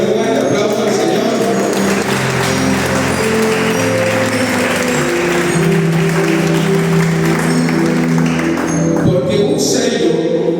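Loud, sustained applause from a church congregation praising the Lord during a Sunday morning service, dense clapping with a sustained musical drone and held tones running beneath it the entire time.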